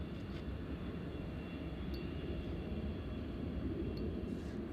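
A British Airways Boeing 777 jet takes off at Nashville International Airport, heard as a steady, broad, distant engine roar that holds level throughout under windy conditions.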